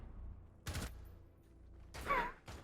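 Two sharp gunshot bursts ring out in a video game, separated by about a second of quiet, followed by a brief third report, each loud and close against a low background.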